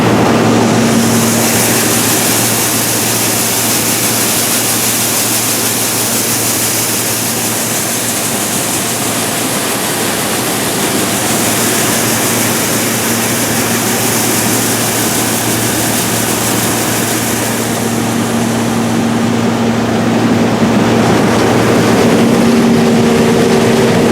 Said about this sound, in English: This machine is unique because it can harvest corn on slopes up to 18 degrees.